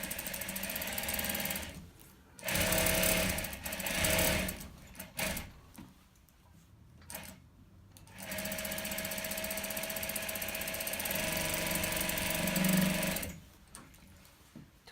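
A sewing machine runs a small seam through tulle mesh in several bursts of rapid mechanical whirring, separated by short pauses, close and fairly loud.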